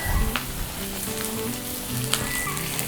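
Wagyu beef searing in a dry, oil-free pan over high heat, giving a steady close sizzle with light crackles and pops throughout.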